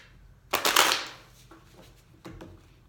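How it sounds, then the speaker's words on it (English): A deck of Klimt Tarot cards is shuffled by hand: one loud, fluttering riffle of cards up close, then a couple of softer taps and shuffles, with no speech. "I have pre-shuffled, but I'll do a few more here."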